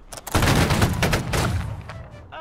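A musket volley in the video game Holdfast: Nations at War, a dense crackling burst of many shots fired together, loud and close, rolling out over about a second and a half before fading.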